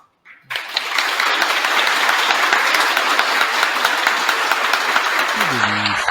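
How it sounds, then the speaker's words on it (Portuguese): After a brief quiet start, an audience at a Spiritist cultural gathering bursts into loud, sustained applause that holds steady throughout, with a faint tonal sound creeping in near the end. "darmos uma salva de palmas e ele poder ouvir"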